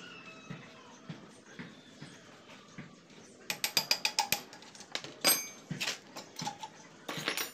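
A ratchet wrench loosens the two screws on a car's butterfly during a knuckle bearing replacement: quiet at first, then rapid bursts of close, sharp mechanical clicking that come and go in short runs.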